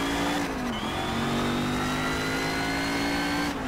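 A Mercedes race car in the racing game Shift 2 Unleashed revs and holds a high engine note, the pitch dipping briefly then climbing and sustaining, loud and close with no talk.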